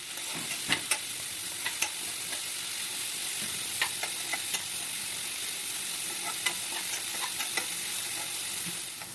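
Chironji seeds and vermicelli frying in a pan for Eid sheer khurma, a steady close hiss of sizzling oil with occasional sharp ticks and pops and scrapes of stirring, no talk.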